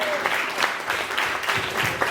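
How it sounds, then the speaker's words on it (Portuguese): A crowd claps steadily, with a continuous patter of hands and scattered louder claps throughout. "Uma salva de palmas para a estância!"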